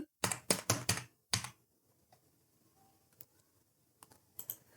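Fingers type on a computer keyboard in a quick burst of close, crisp key clicks, then a pause, then a few scattered taps and a final short flurry.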